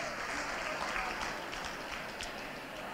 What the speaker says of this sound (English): A special round of applause for them.